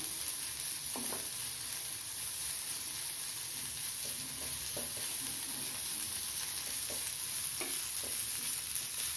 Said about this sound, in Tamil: நல்லா ப்ரௌன் கலர் வர்ற வரைக்கும் வதக்கணும்